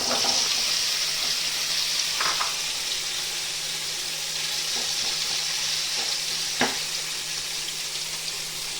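Spiced paneer pieces frying in white oil in a pan, a constant close sizzling hiss with a low hum underneath and a few sharp clinks of a utensil, and no one speaking.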